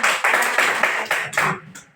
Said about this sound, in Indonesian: Nah, tepuk tangan untuk Sopan